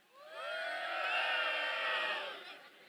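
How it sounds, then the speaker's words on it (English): An audience at a Dragon Ball Z cast panel at an anime convention breaks into loud cheering and whooping, a crowd roar that swells quickly, holds for about two seconds, then fades. "Come on, guys, don't cheer too loud for me."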